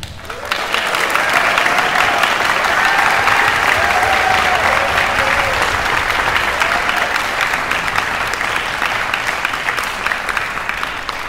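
An audience claps for the conductor at a Christian worship concert, thick sustained applause that swells in after a brief quiet start and carries on evenly loud, easing only slightly toward the end.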